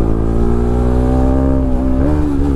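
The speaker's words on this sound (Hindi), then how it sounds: "अभी खींचने से ही मिस मारता है" An RS 200 BS6 motorcycle engine revving hard with a loud, close, steady drone, then wavering in pitch as it misfires under throttle.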